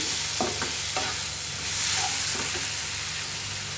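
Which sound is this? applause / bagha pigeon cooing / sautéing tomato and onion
sautéing tomato and onion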